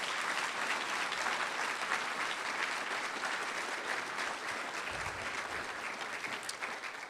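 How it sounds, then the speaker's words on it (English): An audience at an ethics honors celebration breaks into sustained applause, a thick, even wash of clapping from a large room that stays loud and steady throughout, easing only slightly near the end. "So let's give another round of applause for Mike"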